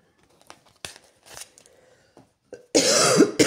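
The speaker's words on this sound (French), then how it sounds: "je vais essayer de pas trop tousser et renifler pendant cette vidéo" A loud, harsh cough bursts out near the end after a few quiet rustles and soft clicks, close and sudden.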